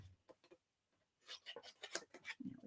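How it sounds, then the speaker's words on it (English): Scissors cutting shapes out of paper in a series of quick, crisp snips, soft and close, with short pauses between bursts of cutting. "Scissors. How fast can I cut these out?"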